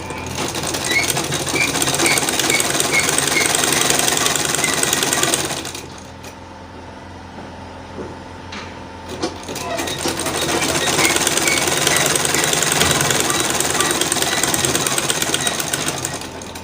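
A sewing machine stitches the crotch seam of a pair of shorts in two loud, fast mechanical runs, with a short quieter pause between them.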